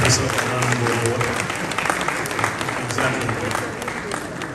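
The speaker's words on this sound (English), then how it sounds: "is there a way to increase the applause for the Chief Executive Officer of the Ghana Gold Board?" Sustained applause fills a hall at a mining and minerals convention for the Ghana Gold Board chief executive, dense and steady, with voices mixed in among the clapping.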